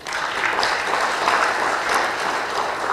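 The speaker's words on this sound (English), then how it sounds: "Please, let's make a big applause as well." An audience at a plenary session of a research network applauds loudly and continuously, a dense, even roar of clapping throughout.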